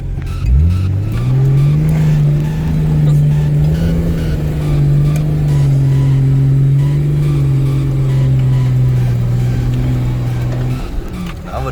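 A Nissan Patrol's engine revs hard at full throttle while driving off-road, a loud, steady droning roar that rises quickly and holds for several seconds, heard close up from the cabin.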